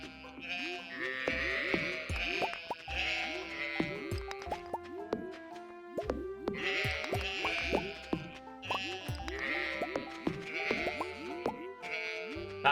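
Sheep in the Stardew Valley farming game bleat repeatedly in short clusters, several calls in quick succession with pauses between, over a bed of other game sounds and buzzing ambience.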